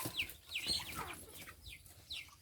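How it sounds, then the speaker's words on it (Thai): Chickens cluck faintly at a distance outdoors, several short rising calls spread across a quiet background. "เพื่อนมาไล่ไก่นี้น่ะ"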